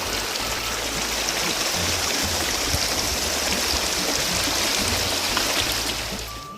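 An icy glacier stream on the Satopanth trek rushes continuously nearby, a loud, steady broadband wash of flowing water with no pauses.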